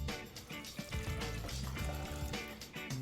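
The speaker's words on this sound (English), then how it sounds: "Now I'm going to add 6 cups of water." Water poured from a jug into a pan of already soaked chickpeas, a busy splashing and gurgling fill that runs continuously and close at moderate level, with no talking.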